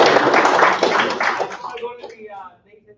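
An indoor crowd at an athletes and coaches summit claps together, a loud, dense patter that swells briefly and then thins to a few scattered claps as it fades within three seconds.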